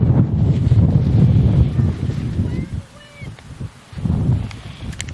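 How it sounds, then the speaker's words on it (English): Wind gusting outdoors at a girls' soccer game, loud buffeting rumble across the microphone that eases briefly midway and then surges again. "Nice little gust of wind sent some of our broadcast stuff flying."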